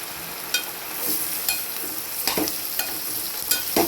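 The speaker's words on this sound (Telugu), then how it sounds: "బంగాళదుంప వేసి కొంచెం ఉల్లిపాయల్లో తిప్పాలి." Potatoes and onions sizzle steadily in a hot pan while a utensil stirs them, making close scraping knocks every half second or so over the constant frying hiss.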